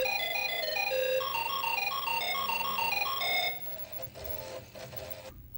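Summer Games opening ceremony music on an Apple IIGS: a bright, chiptune-style melody of beeping square-wave notes plays at a steady tempo, then cuts to quieter scattered electronic tones.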